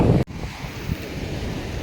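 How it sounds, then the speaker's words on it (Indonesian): Surf from the southern sea breaks along the rocky shoreline of Jayanti Beach in West Java, where boats are moored; a steady, loud broadband wash with heavy wind buffeting, briefly cut near the start, and no voices. "dengan perahu-perahu yang bersandar dan juga bebatuan yang menghiasi bibir pantai dengan deburan ombak yang demikian indah"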